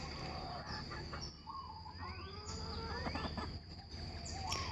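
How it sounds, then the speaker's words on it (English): A large hen clucks and calls repeatedly at close range, a series of rising and falling squawks in an irregular rhythm against steady outdoor background noise. "She's a big ass chicken."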